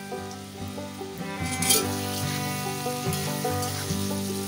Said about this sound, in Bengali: এই সময় দিচ্ছি কেটে রাখা কুমড়ো।